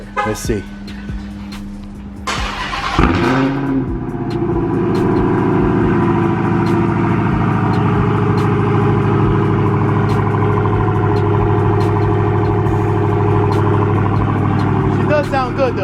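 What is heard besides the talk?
Hellcat car cold start with muffler delete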